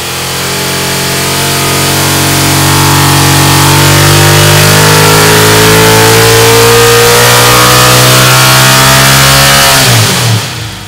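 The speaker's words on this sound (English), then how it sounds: "it has a unique sound also. It's kind of a cross between a V8, a V6, and a Harley Davidson." A NASCAR Chevy SB2 race engine converted to a V6 runs loud and close, revving up steadily with rising pitch and a lumpy, uneven firing note before dropping off at the end; no voices.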